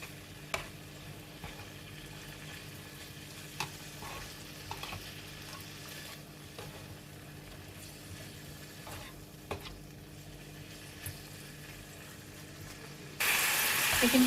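Chicken cooks in a pan for a chicken pie with a soft, steady sizzle and occasional sharp clicks of a utensil, then a sudden loud rushing burst near the end.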